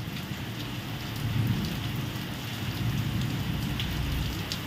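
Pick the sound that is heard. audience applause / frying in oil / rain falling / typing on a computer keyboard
rain falling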